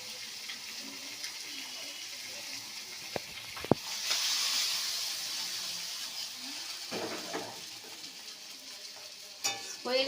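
Something sautéing in a pan for a dish cooked alongside beans and potatoes, giving a soft, continuous sizzle with a few clicks and scrapes of stirring, fairly quiet and close, with no talking.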